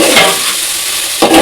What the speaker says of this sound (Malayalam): ഉള്ളി വാടാനായിട്ട് ഉപ്പൂടി ഇട്ട് കൊടുക്കുക. ഇളക്കുക.